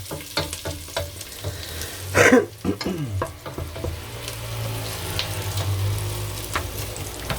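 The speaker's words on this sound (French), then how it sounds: "Faire revenir bien les oignons." Onions frying and being stirred in a pan for a Portuguese-style cuttlefish and squid sauce, steady sizzle with a louder burst of stirring near the start and scraping strokes throughout.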